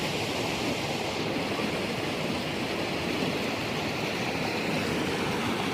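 A stream near Kaziranga rushes steadily past at close range, a continuous broad wash of flowing water with no pauses and no voices.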